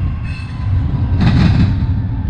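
Steady loud rumble of a passing train at a crossing in Illinois, with a continuous low roar and a brief higher hiss in the middle.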